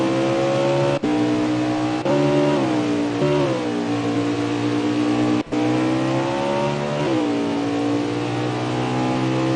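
Onboard roar of the 01 Winston Cup stock car's V8 engine at Canadian Tire, loud and continuous, pitch climbing then dropping sharply at each upshift as it is driven hard through the gears.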